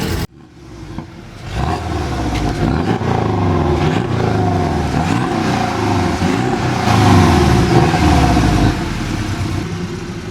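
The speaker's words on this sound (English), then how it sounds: "we're going to give it some baby revs to figure out if it has good oil pressure" A wrecked Porsche 718 Cayman S engine starts and idles, then rises and falls in several gentle revs to check oil pressure, loud and close with a steady rumble throughout.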